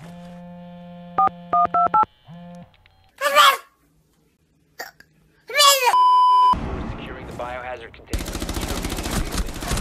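Phone dial tones and ringing beeps play in short bursts during a Rainbow Six Siege match, broken up by loud gunfire and game sounds that later take over with noisy, continuous action.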